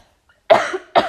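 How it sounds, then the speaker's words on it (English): A sudden cough: after a short silence comes one sharp, fairly loud cough, followed quickly by a second shorter burst, close to the listener. "It's just a sudden cough."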